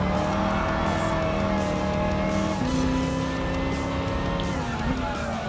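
A Dodge Challenger engine in Gran Turismo Sport whines steadily at high revs, pitch shifting as gears change, loud and continuous with a faint voice underneath.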